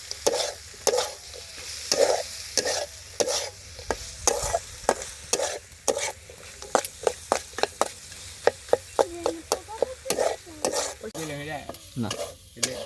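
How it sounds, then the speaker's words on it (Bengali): A spoon scrapes and knocks in a sharp, repeated rhythm as singara filling of potato and fried peanuts is stirred and mixed in a pan, with a soft sizzle underneath and no talking. "ভালোভাবে মিশিয়ে নেই।"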